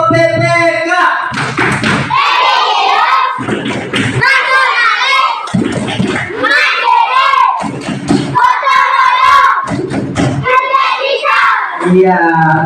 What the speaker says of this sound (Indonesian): Ya, tepuk PPK.